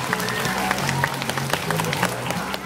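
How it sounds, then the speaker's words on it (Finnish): A small group claps steadily in quick, scattered applause, fairly close, with voices murmuring beneath. "Annetaan HP:lle aplodit"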